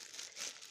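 A plain plastic bag crinkles and rustles briefly in close handling while home cooking in western Algeria, a short continuous crumpling with no voices.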